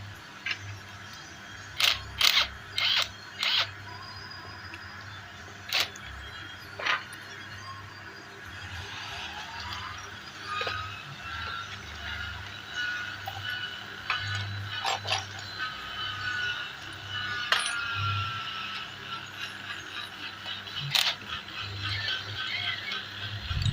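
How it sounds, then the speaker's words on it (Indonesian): A T8 wrench works loose the bolts on a dirty throttle body from a Honda Vario/Beat scooter. Short bursts of metallic ratcheting clicks come and go over a steady low background hum. "ini menggunakan kunci T8. Ini kita lepas dulu ya."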